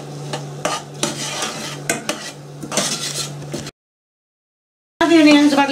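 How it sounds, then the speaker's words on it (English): Sliced onions cooking in melted butter or margarine in a pan, with a utensil scraping and clinking against the metal over a soft sizzle, close up; the sound cuts to silence briefly before resuming louder. "Now the onions have had a little time cooking"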